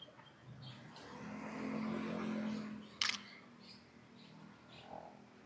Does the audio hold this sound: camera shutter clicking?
yes